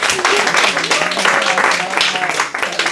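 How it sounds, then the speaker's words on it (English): Audience applause for a creative panel at a content and charcuterie event, steady clapping filling the whole stretch with voices and chatter mixed in underneath. "Let's give our panel a round of applause."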